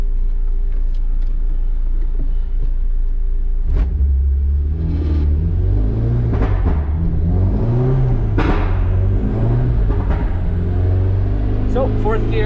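Honda K-series engine with a crackle tune, decelerating in 4th gear with the throttle closed, giving a loud continuous rumble that falls in pitch, with pops and crackles from the exhaust, heard from inside the car.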